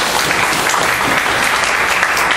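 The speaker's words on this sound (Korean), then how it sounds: "수고해주신 장소수 PA님께 큰 박수 부탁드립니다" A lecture-hall audience at a company tech session on APIs and OAuth claps after a presentation: a loud, even wash of applause running without a break.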